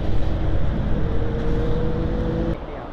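A Benelli TRK502X motorcycle engine drones steadily on a highway ride from Mumbai toward Lonavala, a loud continuous rumble with wind that drops off slightly near the end.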